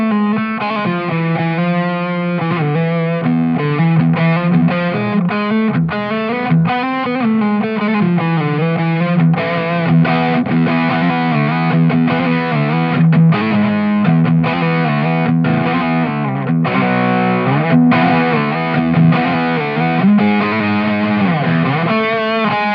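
An electric guitar plays through a JRockett The Dude overdrive pedal voiced for Dumble ODS tones, with reverb added: loud, gain-heavy sustained notes and chords ring continuously with a lingering tail, and no one speaks.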